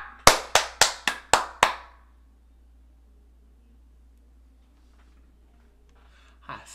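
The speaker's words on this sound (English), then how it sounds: "Clap it up!" Six sharp, loud hand claps ring out in quick succession, each with a short echoing tail, followed by a long near-silent stretch and a faint rustle at the end.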